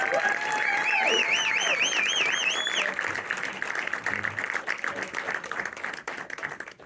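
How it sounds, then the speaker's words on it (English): A crowd applauds steadily and fairly loudly while warbling whistles and cheers rise over it early on, then the clapping thins and tapers off. "I just want another round of applause for all of these amazing members."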